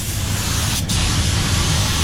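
A spray gun hisses loudly and continuously while painting an Australia Post red van, with one short break in the spray before it resumes at full strength.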